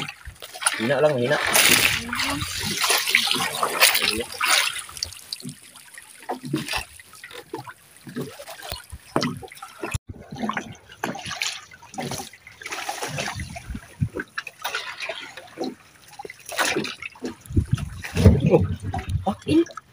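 Flowing water current on a Filipino fishing trip for a large snakehead fish, a washing, splashing rush running under nearly constant close talk from several men.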